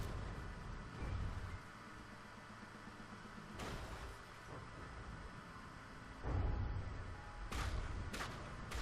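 Missile launches in the naval combat game From The Depths, heard as several booming bursts with rumbling low-end impacts, spaced irregularly across the stretch with no talk.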